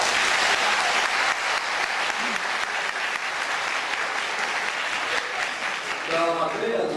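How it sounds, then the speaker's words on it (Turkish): A crowd at a Turkish wedding ceremony bursts into dense, sustained applause right after the bride gives her details, the clapping steady and loud, with a voice cutting in near the end. "Alkışlıyoruz."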